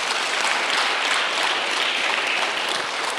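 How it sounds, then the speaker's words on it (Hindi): Steady, dense applause from an audience at a blood donation event, with many hands clapping evenly at a constant loud level from start to finish and no voices over it. "एक बार पुनः तालियों की गड़गड़ाहट"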